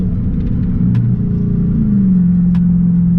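A Dodge Charger's engine runs during a drive, a steady close low rumble inside the cabin whose pitch sweeps and settles as it revs, with a couple of faint clicks and no talk.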